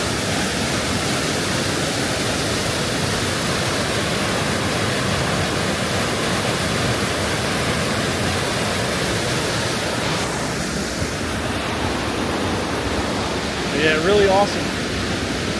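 Water falls continuously at the Great Falls Mill ruins, a steady broadband roar filling the whole stretch, with a brief spoken comment near the end.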